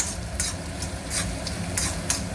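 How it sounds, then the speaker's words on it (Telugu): Urad dal and chana dal fry in a pan, a continuous close hiss with faint crackles and occasional stirring scrapes. "ఇవి మంచిగా కొంచెం లైట్ కలర్ వచ్చేంతసేపు ఫ్రై కావాలండి"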